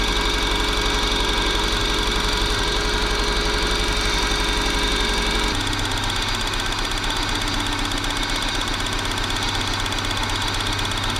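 A rat-infested Subaru's car engine runs and idles on a hot day, a loud, continuous mechanical drone with a slightly knocking, vibrating texture close by. It shifts to a lower, rougher idle about halfway through.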